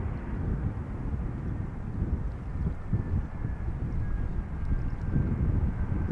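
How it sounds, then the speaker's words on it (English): Airliner thrust reverser roaring after landing at Schiphol, a steady distant rumble with faint wind buffeting, no voices. "Oh, a bit of reverser there."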